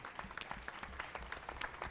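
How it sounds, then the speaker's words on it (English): Faint, sparse clapping from a small family forum gathering, a light patter of hands lasting under two seconds with no voices over it. "And a round of applause to all of us."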